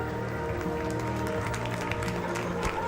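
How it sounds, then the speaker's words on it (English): Spectators at a national age-group swimming championship applaud as two swimmers finish their heat, a steady wash of distant clapping and crowd noise in a reverberant pool hall, with voices mixed in. "Resounding round of applause as both these swimmers reach the end of their swim"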